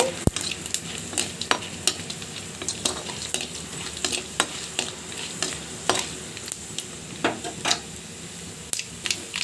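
A tempering of spices frying in a pan on the stove, with steady close sizzling punctuated by regular scraping and tapping strokes of a stirring spoon against the metal.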